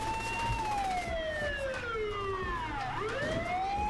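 Ambulance siren in the video game Saints Row The Third, a loud wailing tone sweeping down and back up over engine rumble, close and continuous, with no talking over it.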